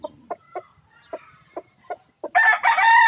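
Large Roundhead gamecock clucking in short, evenly spaced notes, then bursting into a loud, close crow at the end.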